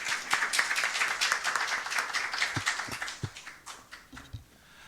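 A modest audience at a walking-culture forum claps for a council leader's congratulatory address, individual claps audible in a moderate round that gradually thins and fades out.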